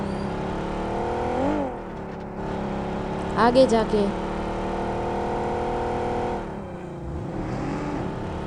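A car in the video game BGMI drives toward a triple-storey building, its engine droning and revving steadily beneath continuous talk, with brief sharper bursts midway.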